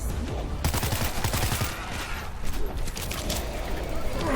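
Rapid bursts of submachine gun fire crackle continuously in World War Z, dense and close, with speech partly mixed in.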